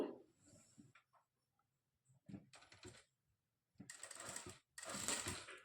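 A sewing machine stitches thread piping cloth along a square blouse neck edge in short, quiet bursts of rapid clatter, separated by pauses of near silence.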